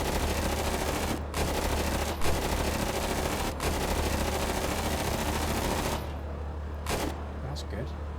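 Sustained machine-gun fire from the commander's mounted gun in the video game After Conflict, a dense continuous roar of rapid shots broken by a few short gaps, easing into lighter bursts near the end.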